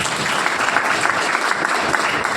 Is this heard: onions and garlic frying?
no